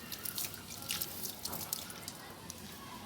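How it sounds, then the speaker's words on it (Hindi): Water is poured by hand onto a potted plant, giving soft splashing and dripping patter close by, fairly quiet and steady, with no talk. "हम पौधे में हमेशा इस तरह से पानी डालते हैं"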